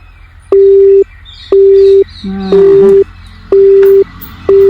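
A telephone call goes unanswered: loud repeating tones sound in even on-off pulses, about half a second each, with a brief burst of other noise in the middle and no talk.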